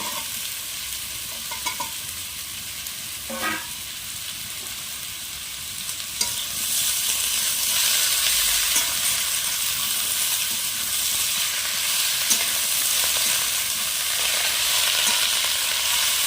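Bottle gourd stems hit hot oil and are stir-fried in a pan, the sizzle swelling into a strong, steady frying hiss with occasional stirring scrapes, close and continuous without talk.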